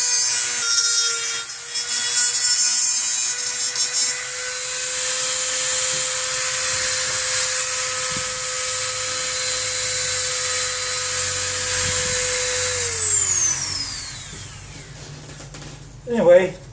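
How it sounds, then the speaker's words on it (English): Dull stump cutter turning wood on a lathe for a helix candleholder, a steady loud scraping whir with a high motor whine that winds down and fades, followed by a short knock. "When your stump cutter starts to get dull, like this one is doing."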